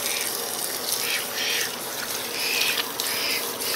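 Water runs steadily from a sink tap, a continuous broadband gush as someone prepares to wash their face before applying a black charcoal mask, close and fairly loud, with no talking.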